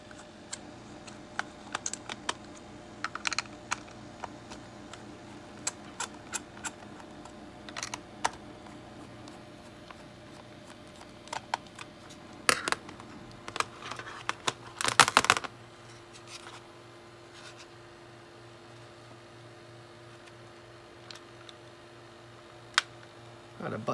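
Small Phillips screws are turned out of a Spectrum Vega+ handheld console, producing close, sparse clicks and ticks of a screwdriver and plastic, with a brief clatter around the middle.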